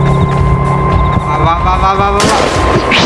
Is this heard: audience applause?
no